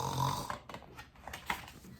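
Voice imitating snoring during a read-aloud of a children's story about a snoring alligator or crocodile: a single rasping, nasal snore near the start, close and fairly quiet, followed by softer breathy noises.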